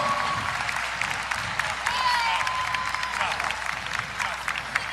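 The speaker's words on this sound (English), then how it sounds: "Big round of applause for all your teams on the floor" A crowd at a CrossFit semifinal competition applauds steadily, clapping and cheering throughout, with a voice talking over the noise.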